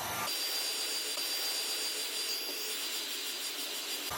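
A heat gun blows hot air onto a car sticker, a steady, loud whooshing hiss of the fan that runs continuously from start to finish, with no talking.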